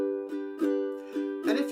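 Ukulele chords strummed with a swing feel, four uneven strums in quick succession with a lilting long-short rhythm, close and ringing, the last strum fuller and brighter.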